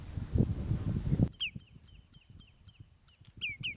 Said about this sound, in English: the fen is just laden with the downy chicks of a dozen shorebird species.